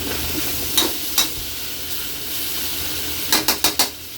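Pork frying in a pan until soft, with a steady low sizzle broken by a couple of sharp utensil scrapes and then a quick run of four stirring clatters.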